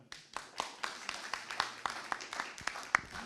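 Scattered hand claps from an audience after a talk on green electronics with Zephyr RTOS, a few distinct close claps repeating irregularly rather than a full ovation, with faint murmuring beneath.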